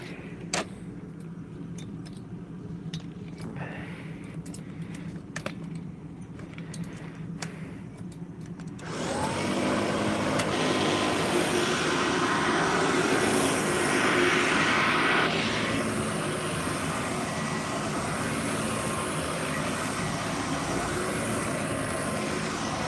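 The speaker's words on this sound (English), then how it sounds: "Who wants to see the Kirby 560 run real quick before I end this?" A Kirby 560 upright vacuum cleaner in need of motor work switches on partway through and runs with a steady, loud motor roar and whine. Faint clicks and handling noises come before it starts.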